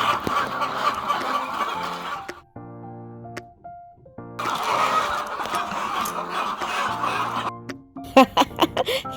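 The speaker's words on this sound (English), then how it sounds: "These chickens are such a pain. They will peck on anything." Chickens on a poultry farm in Ghana cluck in bursts, close and moderately loud, amid general farm noise, with a short quieter gap and a few sharp louder sounds near the end.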